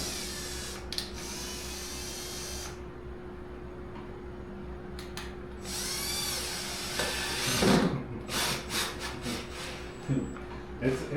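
A power drill drives screws into a full-body whitetail deer mount, whining in short bursts with pauses between them, and a voice is heard faintly in the background.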